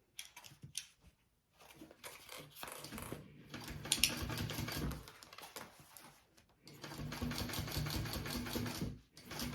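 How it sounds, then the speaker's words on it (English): A sewing machine top stitches a crossbody bag in two long runs of fast, rhythmic mechanical whirring and clatter. A brief pause with handling noise separates the runs, and there is no talking. "we are going to top stitch."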